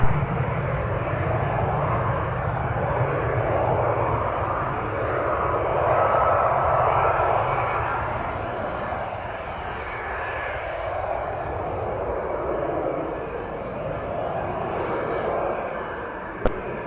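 Aircraft engine roar at Spirit of St. Louis Airport as general aviation planes and business jets take off and land, a loud sustained rumble that swells and fades slightly, heard from nearby with no talk.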